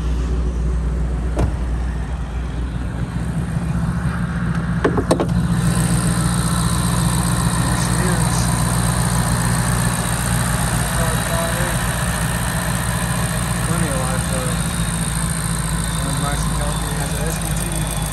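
A 2014 Shelby GT500 with a glass roof and 13k original miles idling with the hood up, a steady low rumble throughout, with a couple of brief clicks near the start and a voice speaking over it.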